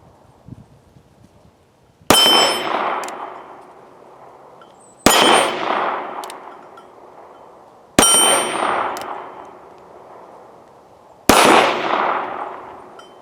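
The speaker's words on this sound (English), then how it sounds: "let's go do the first shots with the North American Arms 22 Magnum Mini Revolver" Four loud, sharp gunshots from a North American Arms 22 Magnum mini revolver crack out a few seconds apart outdoors, each followed by a ringing echo that slowly fades, with no talk.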